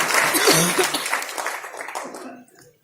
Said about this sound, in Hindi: तालियां होनी चाहिए सर के लिए।